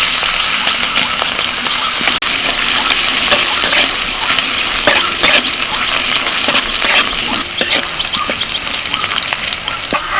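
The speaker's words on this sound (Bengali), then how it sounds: "তেলের মধ্যে দিচ্ছি শুকনো লঙ্কা কয়েকটা চেরা কাঁচা লঙ্কা রসুন কুচি" Dried red chillies, slit green chillies and chopped garlic fry in hot oil, a loud, continuous close-up sizzle with crackling pops throughout and occasional stirring scrapes, no voices.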